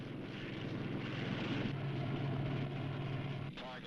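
A helicopter flies overhead during a naval search with a carrier and its escort ships. Its steady, loud engine and rotor drone holds close and constant for most of the stretch, then eases off near the end while narration continues over it.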